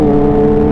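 Kawasaki H2 motorcycle engine revving on a test ride, a loud steady close-up roar with strong harmonic tones held throughout a brief burst, no talk.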